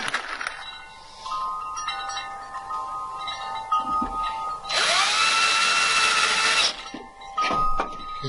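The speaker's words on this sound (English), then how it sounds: "Screw that down so the screw is just barely sticking through." A power drill driving a screw into wood while a bird feeder house is assembled, a loud steady whine lasting about two seconds, set among quieter handling clicks and brief motor blips.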